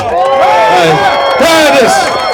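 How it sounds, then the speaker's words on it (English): A dense crowd at a Middle Village political rally cheers and yells loudly and continuously for Curtis Sliwa, with rising and falling shouted voices filling the whole moment up close. "Let's give a big round of applause to Curtis Sliwa"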